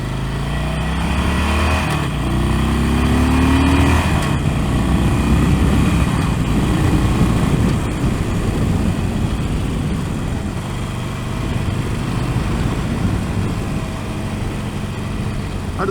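A Harley-Davidson Sportster Forty-Eight 1200 motorcycle on a ride, its engine giving a steady, loud, rumbling drone mixed with wind rush throughout, with no talking.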